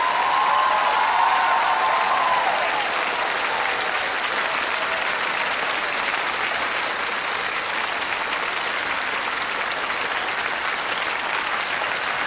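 An audience at a Russian Dancing With The Stars broadcast applauds after a fiery paso doble, a steady, dense wash of clapping that stays even and sustained throughout, with no voices on top.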